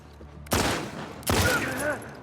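A pair of loud, sharp gunshot blasts with ringing tails, roughly a second apart, in the action game The Last of Us Part 2, over a low ambient bed with a voice faintly under it.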